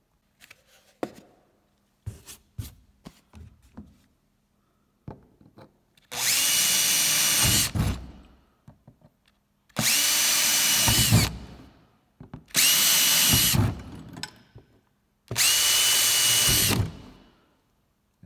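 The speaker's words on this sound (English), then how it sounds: "I'll drill a couple holes on that mark and basically hack out that circle of fiberglass" Power drill boring holes through the fiberglass hull of a Sunfish sailboat, four loud sustained bursts of a second or two each separated by pauses, preceded by scattered clicks and handling knocks.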